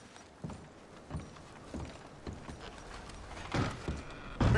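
Horse hooves clip-clopping in a video game, a few spaced thuds and clops at moderate distance, with a louder clatter near the end and no talk.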